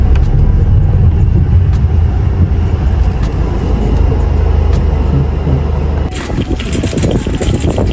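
A car is driven into a parking spot at a shopping centre: a steady, loud low engine rumble from inside the vehicle, followed by clunks and rustling as it stops.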